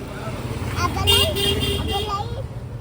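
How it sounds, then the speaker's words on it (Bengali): A motor vehicle approaches nearby, its engine rumbling steadily with a horn-like tone, under a child's and adult's talk. "বাবা গাড়ি আসছে কিন্তু"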